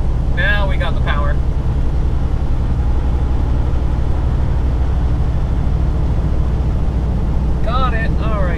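A vehicle engine drones loudly and steadily as it pulls after a downshift, a constant low rumble with heavy wind buffeting, and a voice is heard briefly at the start and end.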